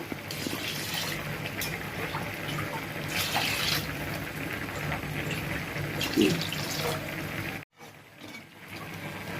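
Water streams steadily into a pot of rice with a continuous splashing rush, broken by a brief silent gap near the end.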